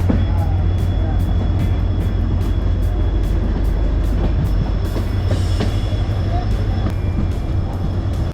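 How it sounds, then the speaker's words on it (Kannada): A train pulling into Kulem railway station rolls with a loud, steady low rumble under a regular clickety-clack of wheels over rail joints, heard close from on board. "ಈಗ ನಮ್ಮ ಟ್ರೈನ್ ಕುಲ್ಲೆಂ ರೈಲ್ವೆ ಸ್ಟೇಷನ್ಗೆ ರೀಚ್ ಆಗ್ತಾ ಇದೆ"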